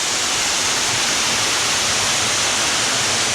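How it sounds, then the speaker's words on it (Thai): Phen Phop waterfall roars steadily in a broad, dense wash of rushing water, loud and unbroken, with no voices over it. "อันนี้คือน้ำตกเพนพบนะครับ"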